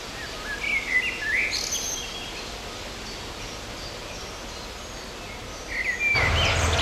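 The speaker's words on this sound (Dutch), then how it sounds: "Kijk, en dat is die merel" A male common blackbird sings in short, bright phrases near the start, on a nature walk in Oudegein, Netherlands, with quieter calls later and rustling near the end.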